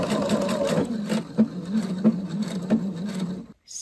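A sewing machine stitches a curved ruffle seam with a close, steady mechanical whir and rhythmic needle chatter, slowing with short pauses before it stops near the end.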